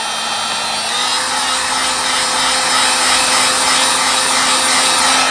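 A heat gun blows a loud, steady whine and rush of air while drying glued faux leather, close and continuous with no talking.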